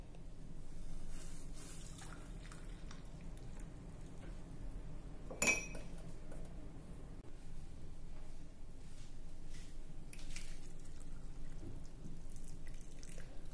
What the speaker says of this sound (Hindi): अब हम काढ़ा को कप में छान लेंगे।